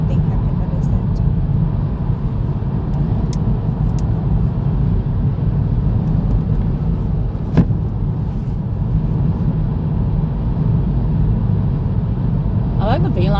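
Steady low engine rumble and road drone inside a moving V-Line coach bus, continuous and close throughout, with a brief knock partway through.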